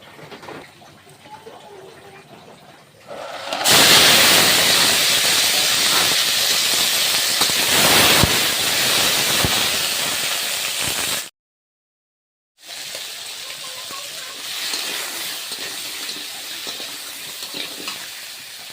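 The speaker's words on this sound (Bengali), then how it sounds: "তেলটা আমার ভালো রকমভাবে গরম হয়ে গিয়েছে এবার কাঁকড়াগুলো দিয়ে দেবো" Big river crabs drop into hot oil for a crab, potato and Malabar spinach curry, setting off a sudden loud, steady hissing sizzle that runs for several seconds, breaks off briefly, then resumes more softly.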